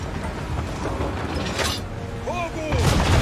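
Ship cannons fire in the Assassin's Creed 3 video game, loud booming blasts amid battle noise and a swelling rumble of further shots near the end, with voices shouting over the fighting.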